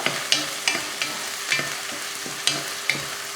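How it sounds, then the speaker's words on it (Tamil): Food sizzles in a hot pan while a utensil scrapes and stirs in a steady rhythm, about every half second, close and clear. "போட்டு இதை லைட்டாக வதக்கி விட்ருவோம்"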